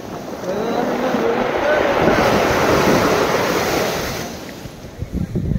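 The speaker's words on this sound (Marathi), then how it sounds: "मजबूत हवा सुटली आहे" Strong wind gusting across the microphone at Uran beach, with surf rolling in behind it; loud, continuous broadband rush that swells and eases, ending in a few rumbling buffets.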